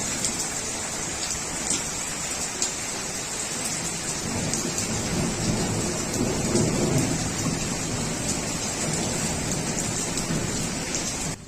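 Heavy rainstorm outdoors with strong winds, a dense continuous roar of rain hitting surfaces and gusting air, swelling slightly midway, with no voices.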